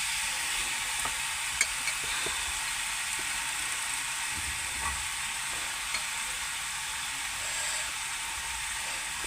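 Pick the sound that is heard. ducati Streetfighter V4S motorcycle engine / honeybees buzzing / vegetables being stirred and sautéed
vegetables being stirred and sautéed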